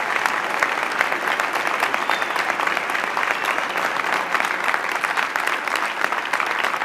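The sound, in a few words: commencement audience applause for graduates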